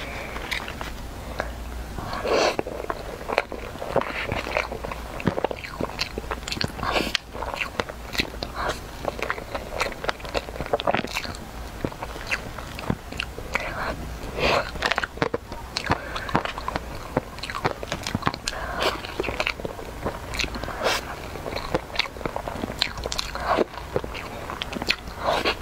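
Crunchy sweet cookies shaped like leaves and watermelon slices are bitten and chewed close to the microphone, giving a steady run of crisp crunches and crackles throughout.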